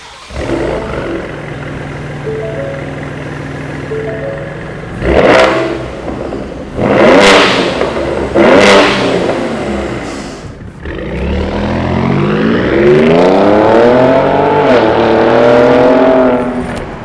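A Ford F-150 Raptor engine with a Borla 3-inch stainless exhaust, S-Type mufflers and X-pipe idles with a low rumble, then revs sharply three times, and finally drones loudly through a long, rising rev with a throaty exhaust note.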